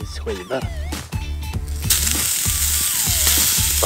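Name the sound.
thick pork slices frying in a pan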